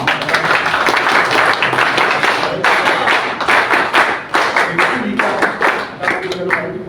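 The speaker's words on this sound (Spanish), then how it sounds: "Les pido por favor recibirlo con fuertes palmas apristas." The audience at an APRA party lecture claps loudly to welcome a speaker; close, crisp hand claps merge into continuous applause with uneven bursts and dips throughout.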